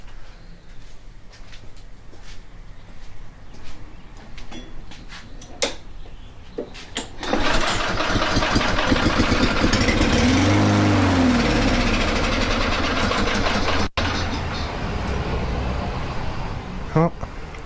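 A Lawn-Boy mower with a dirty carburetor is pulled over, rough engine clatter and mechanical rattle building loud and close, sputtering without catching steadily, with a voice heard early on.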